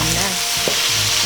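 Tomato, onion and garlic being stirred in a hot pan with a steady close sizzle, one brief utensil scrape partway through.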